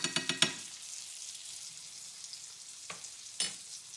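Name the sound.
basting pan-seared salmon with brown butter, sizzling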